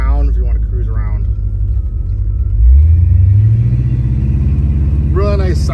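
Engine of a 1967 Cadillac Deville convertible on air ride, a deep steady rumble while driving that swells as it accelerates, with someone talking over it at the start and end.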